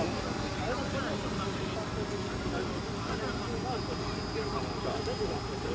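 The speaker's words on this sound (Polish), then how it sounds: "Widzę, że tu jakiś dron przyleciał." A drone hovers and circles near a motocross start area, a steady broadband motor whir that holds at an even level throughout, with people talking underneath.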